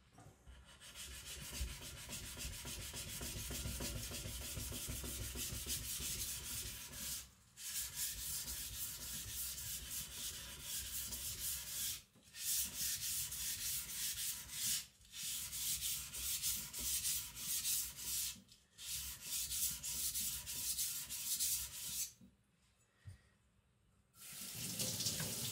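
A custom Chinese cleaver made by Patrik Carlvik is drawn across a wet sharpening stone in long, continuous scraping strokes, broken by a few brief pauses, close and clear with no talking.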